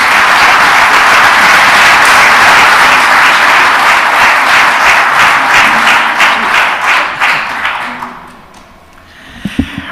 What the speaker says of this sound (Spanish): me gustaría que les recibiéramos con un aplauso de bienvenida